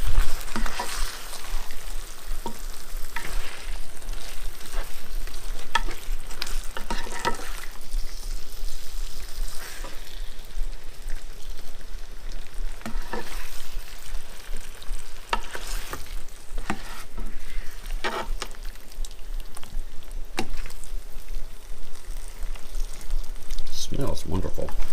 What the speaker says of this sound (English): We'll stir it around to mix it up good